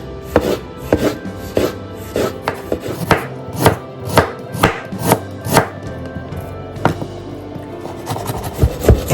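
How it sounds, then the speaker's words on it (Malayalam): An onion is sliced with a knife on a wooden board, producing a quick, even run of loud, close chopping strokes with a slight scrape between cuts. "നമുക്ക് സബോള സ്ലൈസ് ചെയ്യാം."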